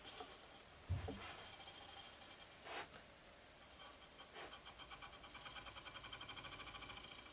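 A Great Wheel spinning wheel with direct drive turns for a couple of extra rotations, giving a soft wooden rumble and faint rhythmic creak near the listener, with a few louder swishes and a steady pulsing whir toward the end, no talk.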